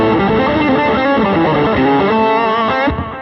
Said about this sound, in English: you can hear that there is a little bit of string noise.